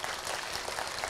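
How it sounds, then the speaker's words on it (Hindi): An audience at a Bharatanatyam arangetram in India claps in a steady, dense wash of applause, heard alone and at moderate distance. "जोरदार तालियां फॉर दर्पणा फैमिली."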